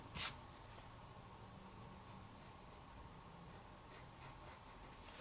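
A pencil scratches steadily across paper while sketching a mountain lion, a soft continuous close-up scraping with no talk.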